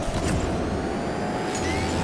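A toy-style car engine in the racing game Hot Wheels Unleashed 2, a steady, dense mechanical drone holding at an even loudness throughout with a faint whine running above it, no talking.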